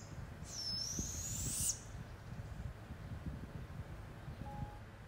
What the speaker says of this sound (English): So after this owl clip